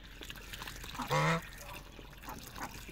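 Ducks bathe in a freshly filled backyard pool in a village, with faint trickling and splashing water and a single short quack partway through.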